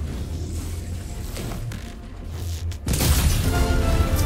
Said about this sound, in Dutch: Naar de explosie.